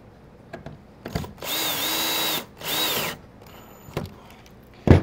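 A power drill drives screws into a wooden high deck chair, with two loud whirring bursts that rise and drop in pitch, set between scattered clicks and knocks of handling nearby.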